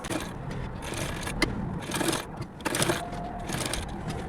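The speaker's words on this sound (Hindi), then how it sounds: "पहले हम गले के चारों तरफ सिलाई लगा लेंगे।" A sewing machine stitches around the neckline of a small doll's lehenga choli dress, joining the lining piece: a steady, slightly uneven mechanical chatter with brief louder bursts, close and continuous throughout.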